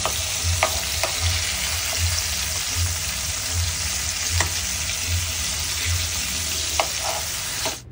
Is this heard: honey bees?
no